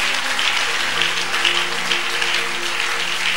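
Church congregation applauding during a Sunday worship service, steady dense clapping that fills the whole moment without pause.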